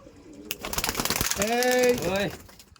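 Punjabi tournament pigeons coo in a few low, rolling calls near at hand, with flapping and handling noise before them and a voice speaking in the background.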